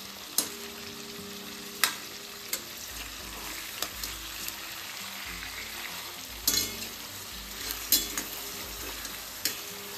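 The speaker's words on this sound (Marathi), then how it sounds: "1-2 मिनिट झाल्यानंतर आपल्याला परतून घ्यायचे आहे सर्व पीसेस माशाचे." Pieces of katla fish frying in a pan, a steady close sizzle broken by several clinking spatula scrapes and stirring knocks at irregular intervals.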